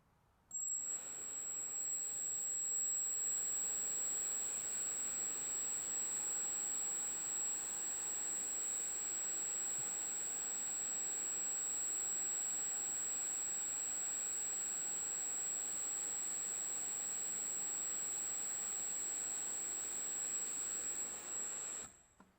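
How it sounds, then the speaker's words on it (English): A small electric ducted fan spins steadily at test speed on a balancing rig, giving a loud, continuous high-pitched whine over a broad airy rush that holds for about twenty seconds before cutting off. "we're going to run the EDF at the test speed and measure the imbalance there."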